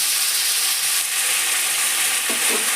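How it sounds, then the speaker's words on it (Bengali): Onion paste hits hot oil spiced with whole garam masala for a shrimp malai curry, giving a loud, continuous hissing sizzle with faint stirring scrapes underneath. "এর মধ্যে পেঁয়াজ বাটাটা দিয়ে দিচ্ছি"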